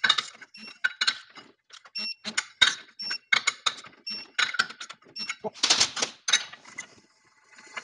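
Torque wrench tightening the clutch bolts on a Can-Am X3, giving a run of sharp mechanical clicks and ratcheting ticks in an irregular rhythm. The clicks are close and fairly clear, with some speech around them.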